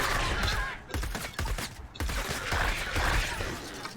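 Rapid gunfire in the video game Fortnite Save the World, shots fired at mobs in repeated bursts with brief pauses, loud and close over a busy game soundscape.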